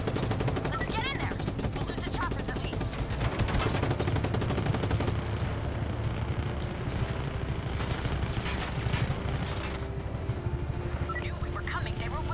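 Sustained gunfire in Just Cause 3, steady rattling shots mixed with engine and action noise throughout, with people talking over it.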